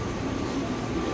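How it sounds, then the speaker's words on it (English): Atlanta airport's underground Plane Train shuttle in motion, giving a steady, enclosed low rumble and rolling hum from inside the car with no voices. "Welcome aboard the plane train."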